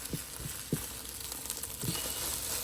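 Scrambled eggs frying in a pan while being stirred, a soft steady sizzle broken by a few low scraping taps from the stirring utensil.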